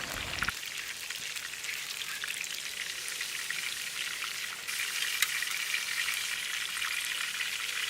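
Eggplants frying in a pan, a steady, moderately quiet crackling sizzle that holds evenly throughout, slightly intensifying midway, with no talking.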